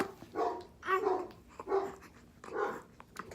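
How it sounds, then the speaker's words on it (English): A dog in the background of a home gives four fairly close barks with short gaps between them, spread across the stretch. "excuse the dog in the background"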